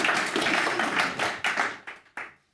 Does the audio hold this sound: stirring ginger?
no